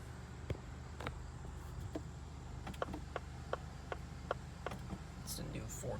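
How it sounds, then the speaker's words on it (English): A Ford car's turn-signal blinker ticking inside the cabin: faint, regular clicks roughly every half to three-quarters of a second over a low engine hum, with quiet background voices. "It's the new Ford blinker sound,"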